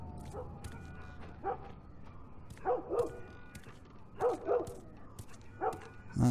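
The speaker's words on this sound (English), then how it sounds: "That dog's certainly going crazy." A dog barks frantically in The Last of Us, sounding in paired bursts every second or so at mid distance, over a quiet game ambience with no talk.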